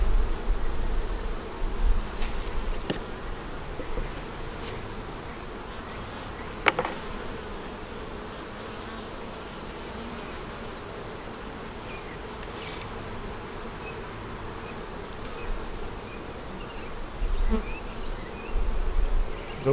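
Honey bees buzz around an open hive during an inspection, a dense continuous hum at close range with occasional louder passes of individual bees near the microphone and a few faint handling knocks.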